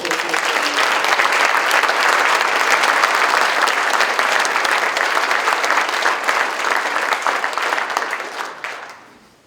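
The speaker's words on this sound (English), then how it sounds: "give them a little round of applause" Applause from an audience at an academic signing day ceremony: a loud, dense wash of many hands clapping close by, sustained for about eight seconds before tapering off, with no voices over it.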